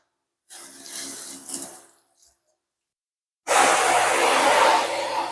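Water spray rinses a car: a short burst of spraying, then a pause, then a loud, steady rush of water hitting the surface at close range.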